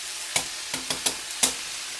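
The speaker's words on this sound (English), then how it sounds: "Let's stir these up a little bit." Food sizzles steadily as it fries in a pan, while about five quick, close scraping stir strokes cut through at uneven intervals.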